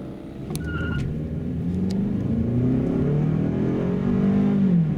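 A 2015 Toyota Camry 2.5 running on LPG through a Landi Renzo gas system accelerates, its engine note rising steadily in pitch as it pulls, loud and close with a continuous drone and no talk.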